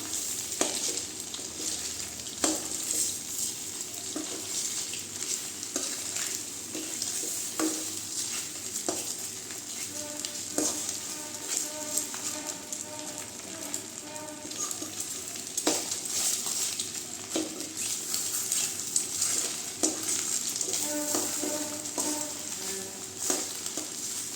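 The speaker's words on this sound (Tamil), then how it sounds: "அப்படியே நல்லா இந்த மாதிரி பரத்தி விட்டுக்கலாங்க நல்லா ரெண்டு சைடு வேக விட்டுக்கலாம்" Pieces of boiled egg sizzle in oil in a pan for a Tamil egg fry, with a steady close frying hiss broken by frequent scrapes and clicks of a spatula spreading them out.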